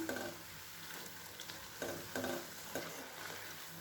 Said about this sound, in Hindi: मीडियम आंच पर ही हम इन्हें फ्राई करेंगे। इन्हें हम उलट पुलट करते रहेंगे।